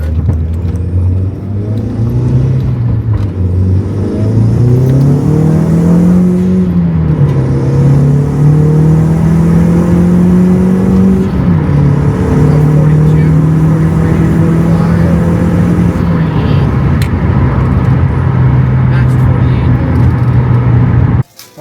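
A car engine fitted with an aftermarket cold air intake drones loud and close, its pitch climbing and sagging through several revs for about twenty seconds before holding a steady hum.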